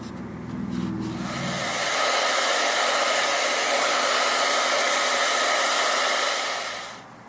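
A hair dryer blows steadily and loudly across a watercolor painting, a continuous close whoosh that starts abruptly, holds for several seconds and cuts off at the end.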